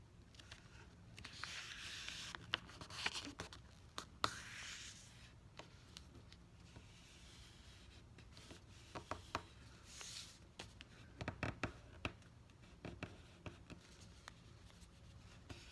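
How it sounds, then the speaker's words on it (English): A sheet of paper note is folded in half up close, giving soft, scattered crinkles and faint creasing taps over a quiet background. "So now we're just going to take this and fold it in half."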